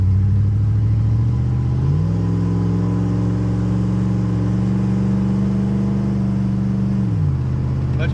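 A V8 engine in a long-dormant Buick LeSabre idles with a steady rumble, then revs up, holds higher for several seconds, and drops back to idle, loud and close with no talk.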